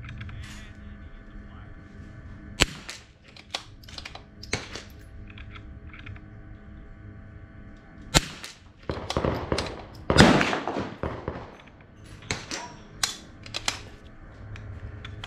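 Rifle shots at a shooting range firing cheap ammunition, several sharp loud cracks spaced irregularly with a denser burst near the middle, heard alone without talk.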